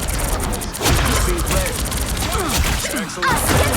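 Heavy, dense gunfire from a team shooter video game, rapid overlapping shots and impacts filling the whole moment at close, loud level, with ability effects sweeping through.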